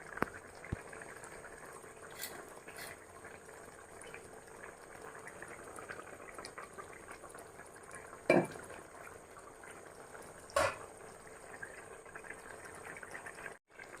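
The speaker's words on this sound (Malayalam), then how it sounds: "അടച്ചു വെച്ച് കഷ്ണങ്ങൾ വേവുന്നത് വരെ ഒരു 5 മിനിറ്റ് വയ്ക്കാം" Fish curry simmers in a covered pot, a faint, steady bubbling murmur broken by two brief louder knocks, with no talking.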